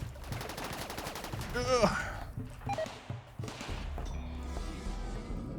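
Turret gunfire in RimWorld during a mech and centipede raid: bursts of rapid mechanical shots, then scattered impacts and thuds amid battle noise, with a player grunting and talking over it.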